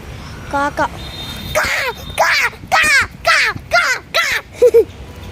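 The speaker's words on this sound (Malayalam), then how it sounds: "കാക്കകൾക്ക് കാക്കയുടെ സൗണ്ട് കേൾക്കുമ്പോൾ തന്നെ പേടിയാവും." Recorded crow caws played in a garden to scare off crows: a run of about eight harsh, loud, close caws in an uneven rhythm, with brief gaps between calls.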